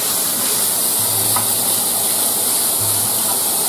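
Chorizo sausage frying in a hot pan for chili mac, a loud, steady, close sizzle with a constant hiss and no voices.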